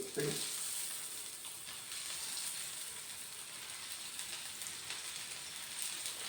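Hot oil sizzles in a pan as a continuous, fairly quiet crackling hiss with faint spatters throughout, and a short clatter comes at the start.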